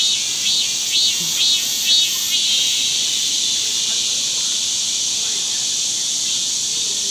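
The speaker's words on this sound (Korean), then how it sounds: "진짜 매미가 제법 맴맴하고" Cicadas buzzing loudly and continuously in the wild on a hillside, a dense high shrill drone that pulses at the start and then holds steady.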